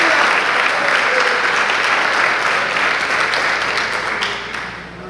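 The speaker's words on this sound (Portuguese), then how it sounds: "Aplauda Jesus, aplauda Jesus." A church congregation applauds together, a dense, sustained wash of clapping that stays loud and steady before easing off slightly at the end.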